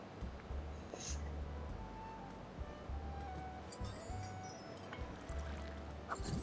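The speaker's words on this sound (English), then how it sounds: "Oh, he's pouring tea." Tea pours from a pot in a video game emote, a soft trickling stream with faint clinks of china, over a low looping game background, quiet and close.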